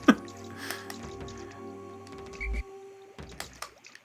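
Water effects in the video game Pikmin, with dripping, squishy liquid plips and gurgles over a low humming game backdrop, scattered and uneven.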